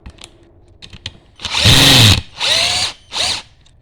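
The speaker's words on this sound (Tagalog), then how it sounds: "So, yung drill niya guys, check natin yung drill." A Yojimbo 20-volt cordless drill whirs in three close, loud bursts, the first longest, each spinning up and cutting off, after a few light handling clicks.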